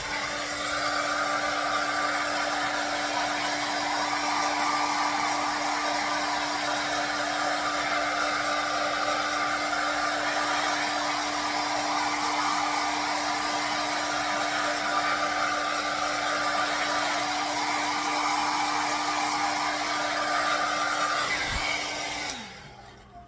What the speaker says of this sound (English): This is a cheap hairdryer.